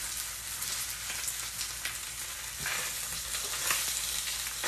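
Precooked corned beef reheating in a cast iron pan gives a steady, close sizzle and fry that swells and eases a little, with faint stirring and no voices.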